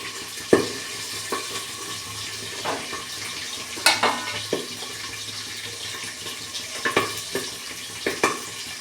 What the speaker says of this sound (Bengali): এখন বন্ধুরা ঝোলটা ফুটেছে, আমি মাছগুলো দিয়ে দিচ্ছি